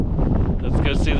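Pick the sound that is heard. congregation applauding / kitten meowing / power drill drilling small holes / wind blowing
wind blowing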